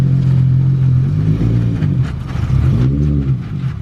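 Nissan 350z fitted with Wisefab and overfenders, engine revving loud and close on its first drive, a steady drone that dips and then climbs again.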